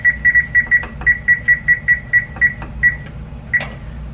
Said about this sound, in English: now I'm gonna preheat the oven to 450